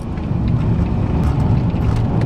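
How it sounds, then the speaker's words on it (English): Car engine under hard braking and a heel-and-toe downshift into third and second, a dense, loud low rumble that holds steady throughout with slight surges and no talking. "So coming down, into third, into second, braking quite hard, down and back on the power."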